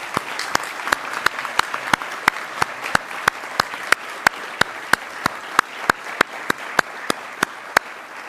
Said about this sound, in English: a big round of applause for all the winners